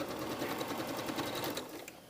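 A sewing machine stitches a blouse sleeve seam with a fast, steady, rhythmic whirring chatter, close and moderately loud, running for a couple of seconds.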